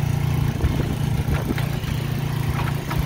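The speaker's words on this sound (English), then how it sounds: "The engine turns over, but I wasn't able to start it." The engine of a 1979 Gilson concrete mixer turns over steadily with a continuous low mechanical rumble, close and loud, without catching.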